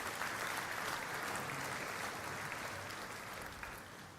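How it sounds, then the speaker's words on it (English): A banquet audience at the North Dakota Shrine Bowl applauds Mr. Bill Lorenz with sustained, dense clapping that fills the room evenly and tapers slightly near the end. "So let's give a round of applause to Mr. Bill Lorenz,"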